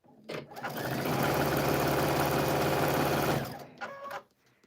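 Baby Lock sewing machine stitching quilt pieces with a quarter-inch piecing foot, a steady fast whirring run of about two and a half seconds, close and loud, with brief handling clicks before and after.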